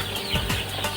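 Young layer chickens, about eighteen days old, clucking in a farm shed, with a couple of short low calls rising over a steady background hum.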